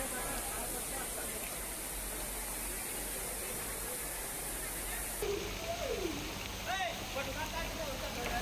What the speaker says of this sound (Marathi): जळगावच्या यावल तालुक्यातील मनुदेवी धबधबा सुद्धा पावसामुळे प्रवाहित झाला